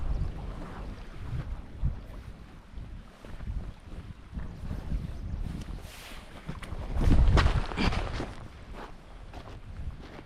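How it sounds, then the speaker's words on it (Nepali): Wind blows at Memencho Lake in Sikkim, a fluctuating low rumbling gust that buffets the microphone and swells louder for a few seconds before easing. No talking is heard. "हावा चलेको"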